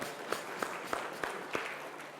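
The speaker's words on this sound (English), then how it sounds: "please give a big round of applause" A sparse, faint round of applause rises from the audience at the India Dialogues event for Prem Chand Kurup, CEO of Paramount Computer Systems, with a few distinct claps over a soft wash.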